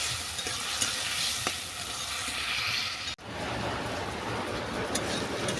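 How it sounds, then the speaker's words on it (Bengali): Spices and vegetables stir-fried in a pan for a rohu fish and cauliflower fritter curry, giving a steady close sizzle with occasional scrapes of stirring and no talking. "এবার মশলাটাকে আমি ভালো করে কষিয়ে নেবো এই সবজির সঙ্গে"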